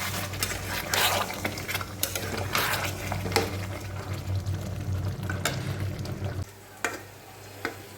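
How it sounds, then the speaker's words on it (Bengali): Mutton with yogurt and sugar is stir-fried in a pan, with a spatula repeatedly scraping and stirring over a bubbling sizzle and a low steady hum that cuts out near the end. "দিয়ে এখন আমি এটাকে শুধু ভালো করে একটু কষিয়ে নেব"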